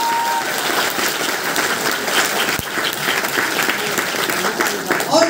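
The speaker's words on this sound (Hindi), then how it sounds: "इसके लिए जोरदार तालियां लगा देंगे" Meeting audience breaks into sustained applause, a dense, steady roar of many hands clapping at close range that holds for several seconds, with some voices mixed in.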